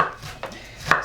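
A knife cutting through an onion on a board, with two sharp, close chopping taps in quick succession and soft scraping between them, and no voices.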